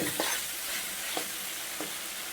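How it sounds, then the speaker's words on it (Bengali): Dried fish (shutki) fries in oil with potatoes and spices, a steady hissing sizzle with a few soft stirring scrapes at regular intervals, close up and fairly quiet, with no voices. "মশলা আলু শুটকি সব কিছু একসঙ্গে ভালো করে ভেজে নিয়েছি"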